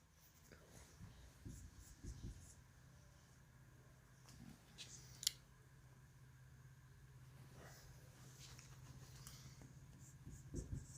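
Pen or chalk writing out an example sentence during a grammar lesson, heard as soft intermittent scratching strokes under a steady low hum, with a few sharper taps along the way.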